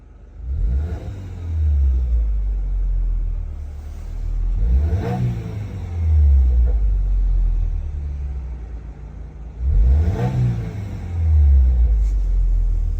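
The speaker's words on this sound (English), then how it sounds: "let me actually let you hear how it sounds inside the car when you just press on the gas." From inside the cabin, a 2022 Subaru WRX fitted with a Rae Motorsports intermediate pipe revs in three or four swells, each a deep rumbling rise that hangs briefly and then falls back to idle, loud and close.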